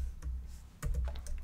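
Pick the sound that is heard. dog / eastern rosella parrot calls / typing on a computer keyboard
typing on a computer keyboard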